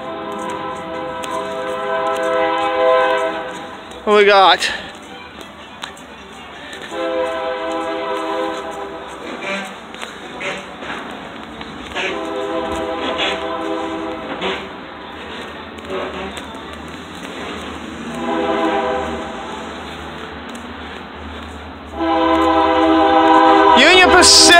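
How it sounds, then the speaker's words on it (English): A Union Pacific freight train rumbles past in Effingham, Illinois, with repeated loud horn blasts, several long honks spread across the passage; someone speaks briefly. "Got a train coming."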